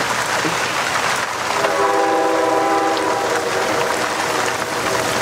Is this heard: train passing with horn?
yes